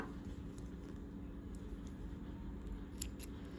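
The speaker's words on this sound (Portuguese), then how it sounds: "Passo por dentro de mais alguns pontos e posso cortar ele." Scissors snip through crochet yarn while finishing a child's crochet bag, a few faint, brief cuts standing out against a steady low background hum with no talking.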